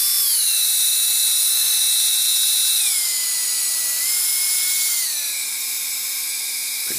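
A tiny 20 mm electric ducted fan unit runs at high speed with a loud, steady whine that steps down in pitch twice as the throttle eases off, close and alone.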